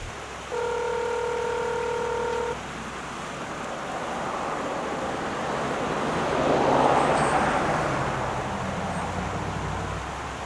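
Telephone dialing tones for a Starlink phone call at a remote campground, a steady two-second run of stacked tones near the start, followed by outdoor wind and surf-like noise.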